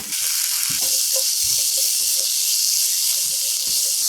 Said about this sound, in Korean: 고소한 마늘향이 올라오면 감자채 넣고 볶아주세요